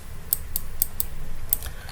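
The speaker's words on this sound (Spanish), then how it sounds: "voy a darle clic acá" A computer mouse clicks several times at a desk while working in Unity software: five or six short, crisp clicks at an irregular pace, close and fairly quiet over a low room hum.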